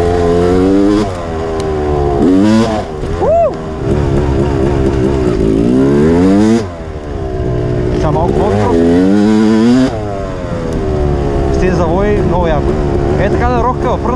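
A KTM 350cc four-stroke dirt motorcycle engine revs repeatedly on a muddy forest track, loud and close, with rising and falling pitch sweeps and people talking over it.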